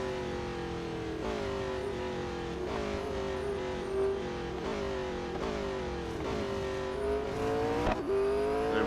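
A race car engine in the Real Racing 3 video game, revving continuously on track with rising pitch sweeps through gear changes, loud and steady without pause.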